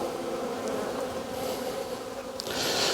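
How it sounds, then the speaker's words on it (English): At a very full hive in a windy, overcast apiary, a dense mass of honeybees buzzes in a steady drone, loud and close. Individual bees whine past now and then, with no talk. "there's a very big box of bees, to be honest"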